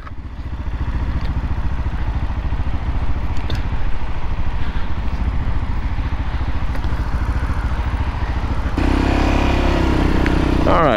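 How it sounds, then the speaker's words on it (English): Royal Enfield Himalayan and Ducati motorcycles riding out together, a close, loud engine drone with steady chugging pulses and some clatter, getting louder near the end. "We got Libby and Matt on their Ducatis."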